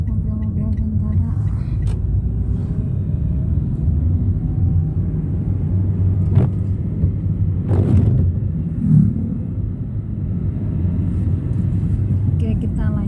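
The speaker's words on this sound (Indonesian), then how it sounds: "sepertinya sedang ada pelatihan mobil-mobil tentara" Military vehicles driving past during a training exercise outdoors, a steady low engine rumble throughout with a few brief louder passes, heard under people talking.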